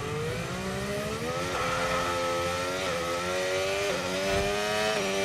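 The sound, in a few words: racing car engine revving in video game F1 25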